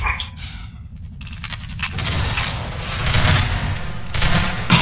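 Grenade blasts and bursts of gunfire in Half-Life 2 Deathmatch, a loud, chaotic barrage with booming impacts swelling and fading across several seconds of close-range combat.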